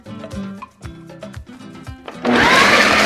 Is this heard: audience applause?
no